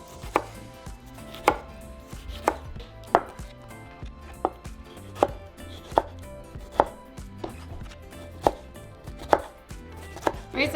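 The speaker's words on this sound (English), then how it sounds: "So I'm going to start with my vegetables, and we're going to cut them into small cubes." Knife chopping vegetables into small cubes on a cutting board, steady separate sharp chops roughly every second, close and clear with no talking, as ingredients are prepared for a stovetop discada norteña.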